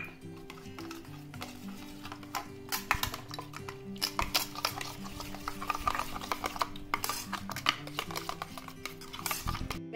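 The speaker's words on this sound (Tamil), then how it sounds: "அதையும் சேர்த்து மூணையும் நல்லா மிக்ஸ் பண்ணி விட்டுறணும்." Raw egg being stirred in a bowl with chopped green chilli and curry leaves for egg chapathi, a steady close clatter of utensil against bowl running the whole time with soft wet mixing and faint background hum.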